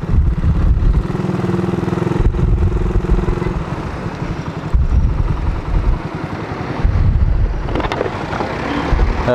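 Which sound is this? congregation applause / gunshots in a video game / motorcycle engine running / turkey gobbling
motorcycle engine running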